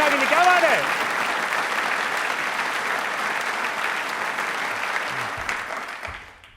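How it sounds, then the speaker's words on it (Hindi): An audience claps for the army, steady sustained applause that fades out at the end, with a voice audible briefly at the start. "तालियां जोरों से बजाते रहिए सेना के लिए"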